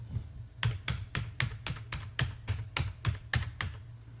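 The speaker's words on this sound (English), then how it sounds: "you can cycle through them just by using your arrow keys" Computer keyboard arrow keys pressed one at a time in a steady rhythm, about a dozen crisp close taps at an even pace with no talking.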